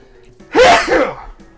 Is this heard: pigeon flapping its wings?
no